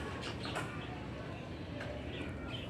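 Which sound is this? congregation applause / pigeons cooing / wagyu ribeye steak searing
pigeons cooing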